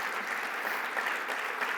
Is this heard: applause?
yes